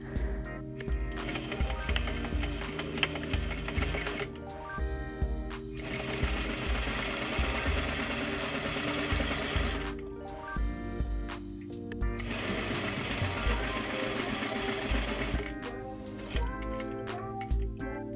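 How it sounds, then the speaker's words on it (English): A sewing machine stitching a trouser welt pocket through the front leg and welt piece, running in long steady whirring bursts separated by brief pauses, close and loud, with no talking. "you're only sewing through the front leg and the welt pocket piece"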